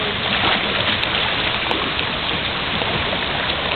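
Steady, dense rainfall from the video game Fez, a continuous hiss of rain that stays loud and even throughout, with two faint brief ticks.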